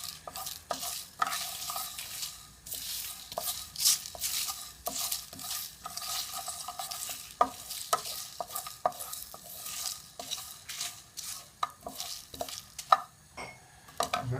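Madras curry spices and dried red chilies dry-roasting in a pan, with near, continuous scraping and stirring that gives off soft crackling and occasional sharp ticks and knocks.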